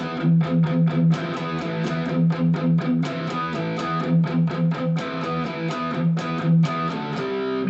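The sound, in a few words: distorted electric guitar riff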